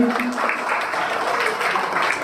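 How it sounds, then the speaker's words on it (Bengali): Applause at a nursery school ceremony for a student who placed in the state merit list: a crowd claps steadily and continuously throughout, a dense even patter heard close and fairly loud with no break. "ওর জন্য একটা হাততালি"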